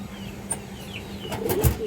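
Pigeons kept in a seller's loft, with soft cooing and a brief flutter of wings close by, over a faint low background hum.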